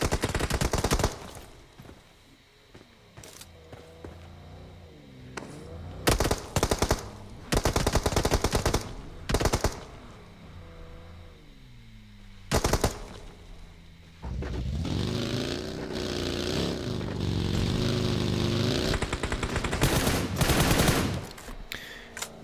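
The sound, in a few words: gunfire in the video game PUBG Mobile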